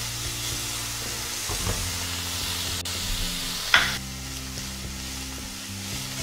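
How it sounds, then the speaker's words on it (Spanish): Finely chopped onion sizzles and fries in a pan with oil, a steady soft crackle and hiss with a brief stir or clink partway through, and no talking. "En esta misma sartén voy a sofreír la cebolla"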